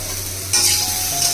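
Vegetables with turmeric fry in a wok, a brief close sizzle that flares up suddenly halfway through as the pieces are stirred, with no talking.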